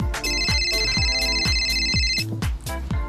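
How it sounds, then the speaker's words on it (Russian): A phone rings with a looping electronic ringtone melody, loud and close, pulsing in a steady rhythm over about three seconds. "как раздается звонок"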